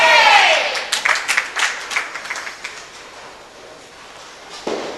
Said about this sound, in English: Bit of cheering from the crowd as well.